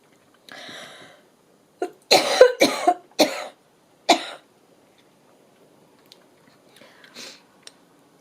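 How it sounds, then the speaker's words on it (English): A few harsh coughs and throat-clearing bursts come in a quiet room, a cluster of three close together, then isolated ones trailing off. "I've been coughing quite a bit the last couple of days"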